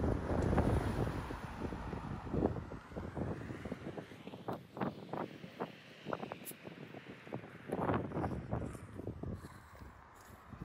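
Strong outdoor wind buffets a microphone in heavy, uneven gusts and rumbling thumps that rise and fall over the whole stretch, with no clear talking.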